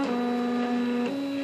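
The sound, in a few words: QU-BD Two-Up 3D printer running with a loose piece rattling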